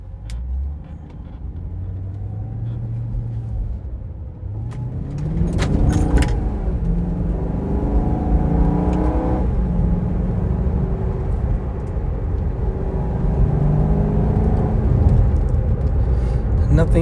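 A Maserati Quattroporte S in sport mode pulls away, its engine note sweeping upward as it accelerates, then holding a loud, steady drone inside the cabin.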